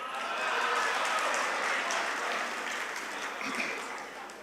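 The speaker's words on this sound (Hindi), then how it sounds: "तालियों से एक बार संपत सरन साहब को बताइए" Audience applause at a mushaira in Mysore, a dense steady wash of clapping from a crowd that holds at a constant level and tapers slightly toward the end.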